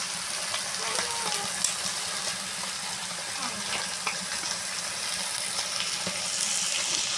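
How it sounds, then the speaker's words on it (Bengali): Duck meat sizzling and frying in a pan over a wood-fired clay stove during the rainy season, a steady crackling hiss with occasional pops, heard close, with a faint voice in the background. "এই বর্ষার সময় উনুনের জালে মাংস রান্না খুব সুন্দর লাগে"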